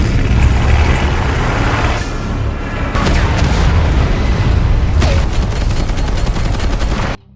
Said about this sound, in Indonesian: Dan begitu keluar gudang, bom langsung dijatuhkan, tapi Atemi lolos dan masuk ke area hutan.